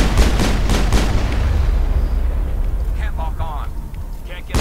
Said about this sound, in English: he just shot me point blank with a missile